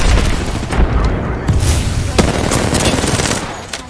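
Continuous video game gunfire in a squad shooter as the player takes fire, dense rapid shots and booms layered into a loud, unbroken barrage.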